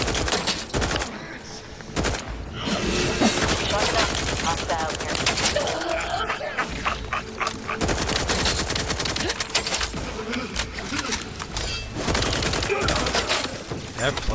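Sustained video-game gunfire in The Outer Worlds 2, dense rapid bursts and volleys that stay loud for about fourteen seconds with only brief gaps, and a voice is faintly present beneath the shooting.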